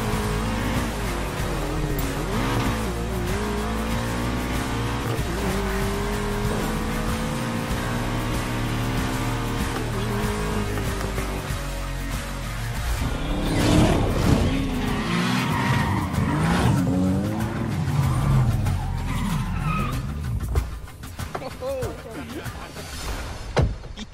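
Car racing in the Need for Speed video game, with a sustained engine drone and revving, tire squeals and skids growing louder midway, while people talk over the game sound.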